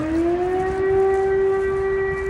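A civil defense air raid siren wails close and loud, holding a steady rising tone with strong overtones over a low background rumble.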